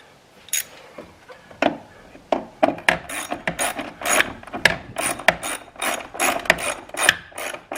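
Ratchet tightening the battery hold-down bracket on a RAM 1500 pickup, with a run of quick close-up clicking strokes that speed up into a busy, irregular ratcheting rhythm.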